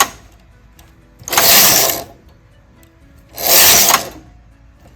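A domestic knitting machine carriage slides across the needle bed in two loud rasping, clattering passes, each about a second long, separated by quiet pauses.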